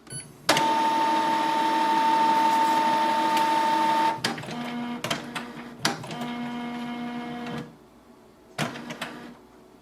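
A Canon Pixma TR4722 printer runs after a paper jam is cleared, its motor whirring with a steady tone for several seconds, then stopping and restarting in shorter bursts with clicks and mechanical clunks.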